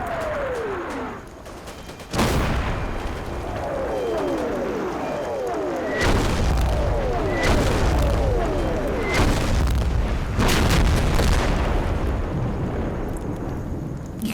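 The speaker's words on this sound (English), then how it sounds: "incredibly heavy German artillery falls right in the middle of two whole platoons" Heavy German artillery barrage in the WWII game Combat Mission, shells whistling in before a series of loud, booming explosions that roll and overlap for several seconds, with more incoming whistles between blasts.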